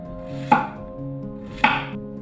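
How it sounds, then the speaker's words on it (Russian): Two sharp knife chops through zucchini on a cutting board about a second apart, each a crisp thud against a faint steady hum. "Кабачки я все нарезал."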